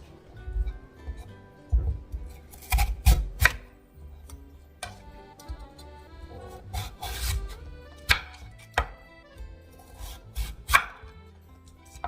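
A knife chops radish into chopstick-thick sticks on a board in uneven bursts of sharp, close knocks, with pauses between runs of strokes.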